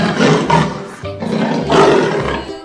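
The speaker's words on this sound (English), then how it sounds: "Leopard." A leopard gives a series of short, rasping roars, about four coarse grunting bursts in quick rhythm, close and loud with nothing else heard.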